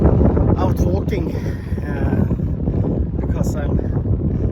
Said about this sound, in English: It's a windy and maybe even rainy day here in Märsta